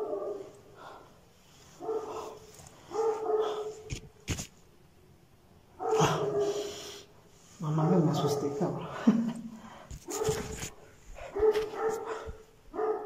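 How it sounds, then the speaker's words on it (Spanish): Bursts of dog barking come in repeated clusters at moderate distance, with a person speaking briefly between them. "Creo que es el perro que está ladrando."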